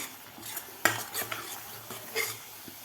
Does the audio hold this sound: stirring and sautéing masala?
yes